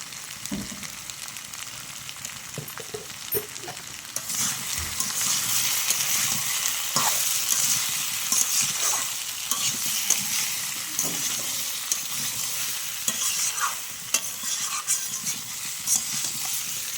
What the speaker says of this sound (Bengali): লবণ হলুদটা দেওয়ার পরে একটু ভালো করে কষিয়ে নেব মশলাটা